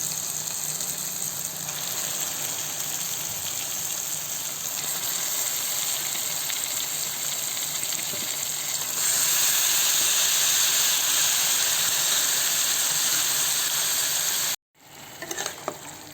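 Washed chicken pieces fry in a pan for chicken gravy with a loud, hissing sizzle that swells partway through, steamy and close, then cuts out briefly before resuming.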